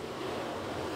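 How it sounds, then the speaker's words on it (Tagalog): Steady roar of strong typhoon wind in Macau buffeting the microphone, a continuous rushing noise with no pauses. "Lakas ng hangin. Grabe."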